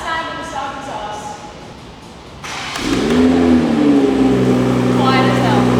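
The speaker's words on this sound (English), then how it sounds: "It's our last time with the stock exhaust." A Toyota A90 Supra with its stock exhaust fires up after a quiet stretch, catching with a rising surge and then settling into a steady, subdued idle hum.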